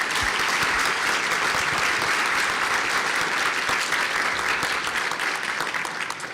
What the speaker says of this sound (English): can you guys please give them a round of applause?